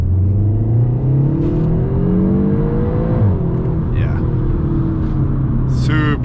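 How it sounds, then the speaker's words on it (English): Seat Leon Cupra 300 with DSG gearbox revving and popping from the exhaust, a loud close engine drone rising in pitch, dipping at a shift, then climbing again, with brief crackles over steady road rumble. "It also has the DSG box, which is known for its, well, DSG farts."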